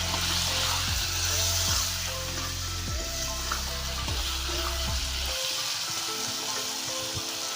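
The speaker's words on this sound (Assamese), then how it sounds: "এতিয়া ধুনীয়াকৈ হেতা দি লাৰি আছে।" Meat seasoned with salt and turmeric sizzles loudly in a pan and is stirred with a spatula, giving a steady crackling fry broken by repeated scraping strokes, with a low hum that cuts out partway through.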